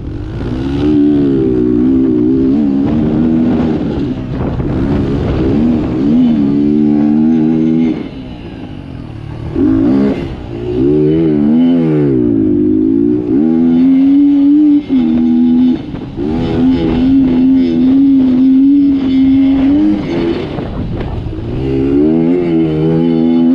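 A CR80 dirt bike with an XR100 conversion and a chopped, welded frame is ridden nearby, its engine rising and falling through repeated revs and gear changes, loud and raspy, with short drops in between.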